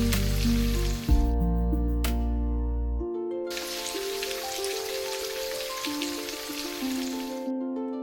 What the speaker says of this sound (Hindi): कुछ समय बाद फिर अचानक हल्की बारिश शुरू होती है।